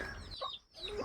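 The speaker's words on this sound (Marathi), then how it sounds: "मागे कोंबड्यांचा आणि पिल्ल्यांचा चिवचिव आवाज पण येत होता." Hens and chicks cluck and cheep nearby in a village yard, a short burst of overlapping fowl calls with a brief lull in the middle.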